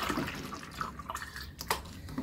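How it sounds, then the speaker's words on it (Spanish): Water poured in to top up a homemade creolin-based cleaning mixture, a faint splashing trickle with a few drips, close by and without talk. "nos faltó una poquita de agua, le vamos a completar"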